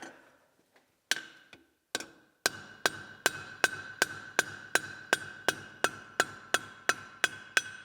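A hammer strikes soft metal on an anvil, starting with a few scattered taps and settling into a steady, evenly spaced series of sharp ringing blows close by.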